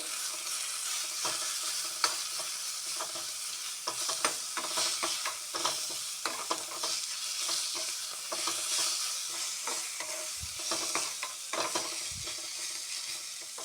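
Kanne kudi leaves crackle fast in hot oil for tambuli, a close, busy stream of sharp pops and spitting crackles over a constant sizzle, with a few low thumps.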